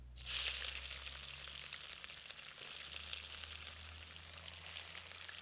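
Onions frying in a Dutch oven during village cooking of Pahadi chicken curry, a soft steady sizzle that starts abruptly and continues faintly with a low hum beneath.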